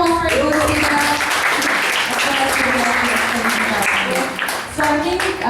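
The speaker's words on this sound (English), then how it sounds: "Can we have a round of applause for Svida?" An audience gives a speaker a round of applause at a social impact business event in Indonesia, steady dense clapping that fills the room with voices talking over it.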